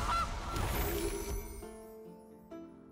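A goose honks loudly from a card effect in MTG Arena, a single brassy honk at the start that fades into a ringing game chime tail.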